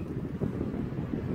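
Electric fan with a replaced start capacitor running on its weak speed setting, producing a continuous rushing, wind-like airflow that buffets the microphone at a steady level, with no voices.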